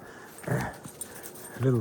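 A dog out on a wooded deer trail gives a couple of short whining yips close by, separated by a quiet pause against soft outdoor background.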